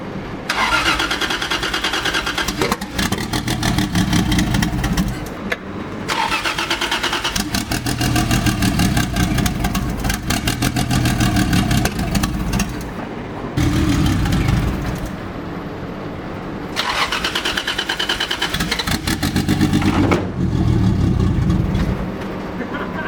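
A Toyota 2JZ engine swapped into a Nissan 300ZX cranks, fires and settles into a loud, rough idle close by, with the starter sounding several times between stretches of running.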